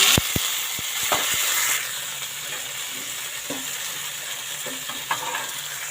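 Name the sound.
tempering of garlic, curry leaves and tomato sizzling in oil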